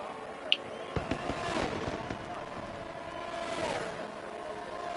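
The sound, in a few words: fireworks at race finish in racing video game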